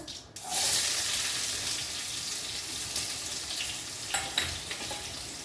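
Onions sizzle in hot tempering oil with cumin and mustard seeds, a steady moderate frying hiss after a brief quiet start, with a few light clinks of stirring.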